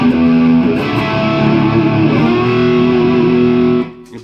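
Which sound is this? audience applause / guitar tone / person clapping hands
guitar tone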